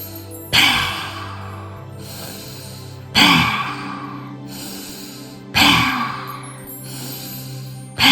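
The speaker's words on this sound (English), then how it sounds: "forcefully exhale, making a ha sound from the back of your throat" Three forceful exhales voiced as a breathy ha from the back of the throat, spaced about two and a half seconds apart, each a sharp burst fading into quiet breathing in a guided breathing exercise.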